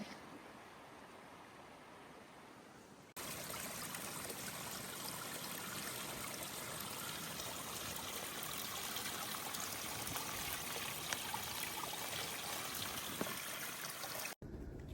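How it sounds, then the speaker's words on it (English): A river stream rushes along the Appalachian Trail. Quiet ambience gives way after about three seconds to a loud, steady broadband rush of flowing water that continues almost to the end, then cuts off abruptly. "I guess this river must get pretty high."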